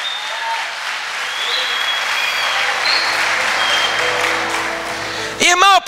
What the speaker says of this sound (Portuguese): aplaude mais forte a Jesus e diga glória a Deus